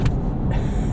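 A turbocharged engine in a 2025 Toyota 4Runner Trailhunter, heard close from the cabin with the window down, makes a steady loud rumble with brief hissy whooshes.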